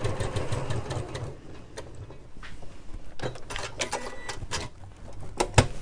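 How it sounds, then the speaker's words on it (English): Sewing machine stitching across a fabric cushion cover, a steady mechanical whirr with quick rhythmic needle clatter and a few sharp clicks, moderately quiet and close. "So I'm just going to sew across that."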